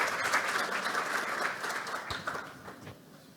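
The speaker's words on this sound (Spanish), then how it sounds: "Un aplauso," Audience applause follows a medical lecture on multiple sclerosis, a dense, steady patter of many hands clapping at moderate distance that slowly thins and fades toward the end.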